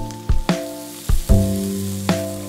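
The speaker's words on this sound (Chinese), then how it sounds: "洗净的锅中重新倒油加热，先下番茄翻炒" Tomatoes stir-fried in hot oil in a wok while making a homestyle vegetable fish soup, with a steady sizzle and several sharp spatula scrapes and clanks against the pan.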